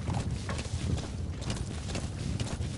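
Horse hooves clip-clop steadily from Metal Gear Solid V: The Phantom Pain, a continuous faint stream of walking hoofbeats mixed into a dense game soundscape.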